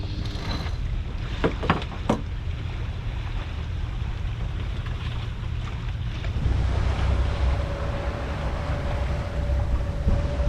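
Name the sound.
sailboat propeller freewheeling with high-pitched whirring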